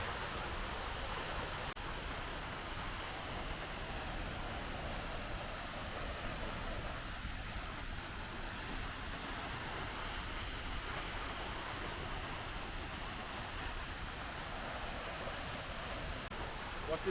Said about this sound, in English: What a beautiful waterfall this is.